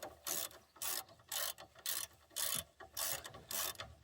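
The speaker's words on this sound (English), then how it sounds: "probably looking at my ratchet right now saying, why is he using a adapter?" A hand ratchet wrench fitted with a socket adapter clicks in a steady rhythm of repeated strokes during front suspension work on a Dodge Dakota, each pass a quick burst of pawl clicks, soft and close with no talking.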